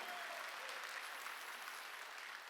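A church congregation at a Sunday worship service applauds together in a dense, steady wash of clapping that stays even across the short stretch.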